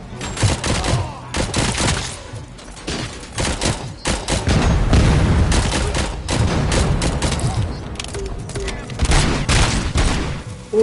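Sniper and other gunfire in a video game cracks out in rapid, repeated volleys that run continuously and loudly, with a player's voice talking over the shooting.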